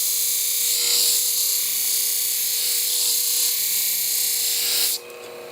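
Shears being sharpened to reconvex the blade on a motorized sharpening wheel, a steady high-pitched grinding whine held for several seconds before dropping off near the end.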